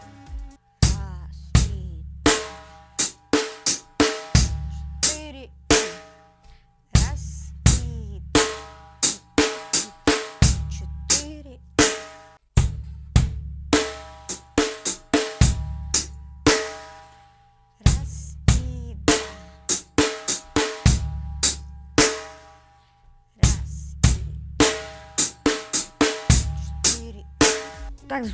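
A drum kit loops a bar of a syncopated breakbeat with punchy kick and snare hits and crisp cymbals, repeating the same bar several times, close and loud with no talking.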